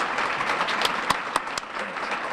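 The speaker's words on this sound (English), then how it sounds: "let's give him a round of applause" A crowd at a sports hall of fame ceremony breaks into steady applause, continuous clapping with a few sharper individual claps standing out.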